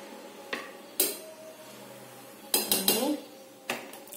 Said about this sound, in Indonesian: Terus kita masukkan wortelnya.